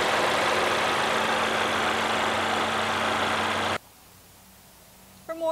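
The 2.3-liter I-4 engine of a Lincoln MKC idles with a steady, even hum for about four seconds, then cuts off abruptly, leaving near silence with a brief noise at the end.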